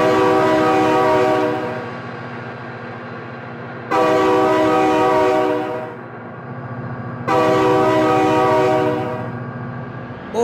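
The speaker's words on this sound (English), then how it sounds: "my god, train!" A train in the BeamNG Drive video game sounds its horn in three long, loud blasts that repeat at regular intervals over a constant rail rumble, with no talking.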